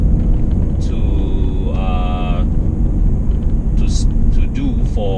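A BMW E39 on a shakedown drive up the Genting road gives a constant loud low rumble of engine and road noise from inside the cabin, while someone talks throughout.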